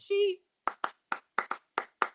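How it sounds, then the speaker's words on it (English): A short vocal whoop comes first, then a sparse round of applause: about eight sharp, close hand claps in an uneven rhythm. "that was round of applause for her."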